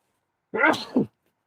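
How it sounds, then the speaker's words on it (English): A single sharp sneeze, close and sudden, in an otherwise silent moment inside a greenhouse. "So, the sneeze coming."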